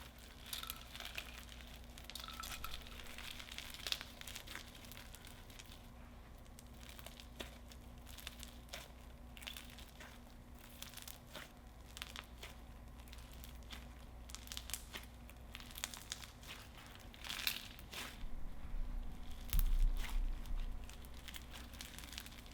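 Crunchy no-glue slime is squished and kneaded close up in a quiet room, giving steady faint crinkling and crackling with scattered sharper pops, alone without talk.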